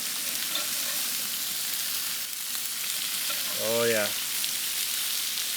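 Venison bacon burgers fry in a pan with a steady, close sizzle that runs throughout, and someone speaks briefly over it.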